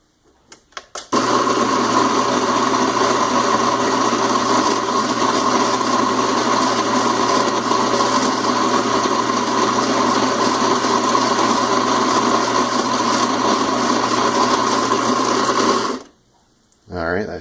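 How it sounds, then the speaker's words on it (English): An electric coffee grinder grinds coffee beans for French press at a coarser setting, a loud steady motor whine and rattle running about fifteen seconds before cutting off abruptly. "we're going to go ahead and grind up our coffee beans here"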